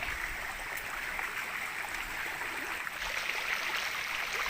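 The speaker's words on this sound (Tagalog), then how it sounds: "puro nga siya bato pero may tubig, malakas na tubig. Bumubulwak talaga yun" Constant rushing of water gushing strongly from a rocky spring nearby, a steady hiss and splash with no pauses.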